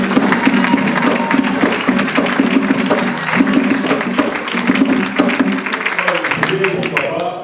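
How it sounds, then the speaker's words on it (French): A live stage show audience applauds continuously, steady broadband clapping mixed with crowd noise and voices throughout. "Est-ce qu'on peut applaudir pour"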